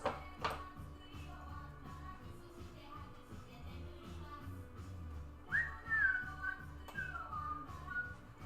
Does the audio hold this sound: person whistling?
yes